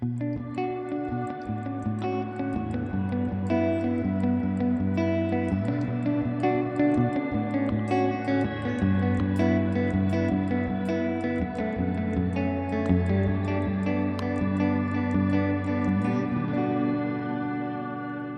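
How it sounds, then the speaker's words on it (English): A guitar played through a Joyo Atmosphere reverb pedal on its mod setting, with mod turned up, tone down, long decay and a heavy mix, adds an octave-up shimmer that gives sustained chords a swelling, organ-like wash. It rings continuously and loud, with no talking. "it pitch shifts the reverb signal on there and adds an octave right above there, giving this kind of like cool organ effect"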